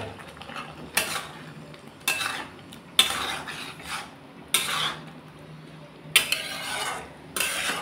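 Spices being stirred and fried in oil in a pan with potatoes, tomato and green chilli, with repeated bursts of metal utensil scraping and clinking against the pan at irregular intervals, close and moderately loud, no talking.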